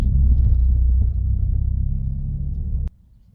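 Manual stick shift car driving in gear, a low steady engine rumble heard from inside the cabin, fairly loud and even, cutting off abruptly near the end to a quieter hum.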